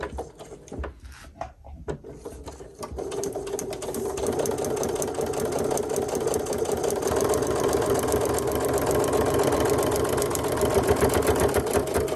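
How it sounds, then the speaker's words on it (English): A sewing machine stitches fabric along a marked line while piecing a New York Beauty quilt block, a steady close rhythmic mechanical hum running continuously after some brief handling noises at the start. "I'll go ahead and flip it over and I'll sew on the line."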